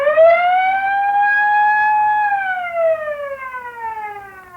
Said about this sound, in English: Well, Mr. Denton, your auto alarms are certainly loud enough.